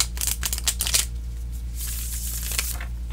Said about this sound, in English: This is, of course, going to shuffle beautifully.